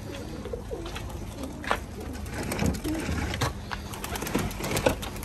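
Homing pigeons cooing on a rooftop loft, overlapping soft low coos and rustling against steady outdoor background noise, close and continuous.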